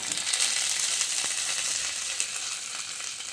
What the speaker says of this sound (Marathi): हा तडका आपण आता त्या चटणीमध्ये